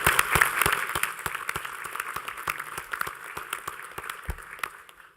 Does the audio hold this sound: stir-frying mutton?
no